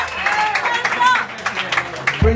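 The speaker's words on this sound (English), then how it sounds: "round of applause, ladies and gentlemen." An audience at a live music show breaks into applause, brisk clapping rising and falling across the room with a few cheers and voices mixed in, and a thump near the end.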